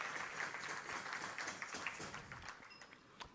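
A crowd at a Rotary Club meeting in Tucson applauds steadily, a dense patter of many hands clapping at moderate volume that slowly thins toward the end.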